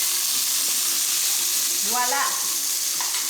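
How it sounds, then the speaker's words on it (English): Burger patties sizzling in butter in a pan, a steady hiss under a brief spoken exclamation. "Add the butter to the pan. And I'm going to just coat my beautiful patties"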